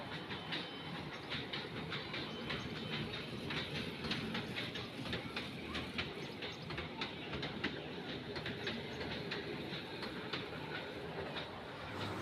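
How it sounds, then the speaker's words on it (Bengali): A small dragon ride train at an amusement park clatters steadily along its track, a continuous rumbling clickety-clack with faint chirps above, no voices, steady level throughout. "ছোট বড় সবাই ড্রাগন ট্রেনে উঠে গেছে।"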